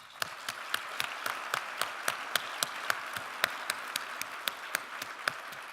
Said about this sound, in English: let's all give our Green Bay quartet and Garrett another great round of applause